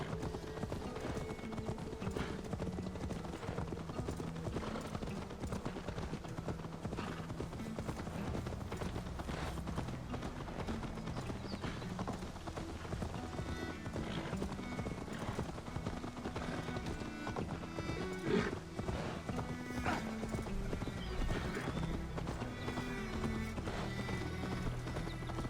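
Horse hooves gallop in a steady, continuous clip-clop rhythm during a ride in the Assassin's Creed Valhalla video game, with occasional whinnies and game ambience around them.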